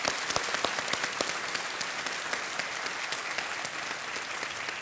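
Studio audience applause on the set of the Indian quiz show Kaun Banega Crorepati, a dense steady wash of many hands clapping with sharper individual claps popping out, loud and continuous throughout with no talking.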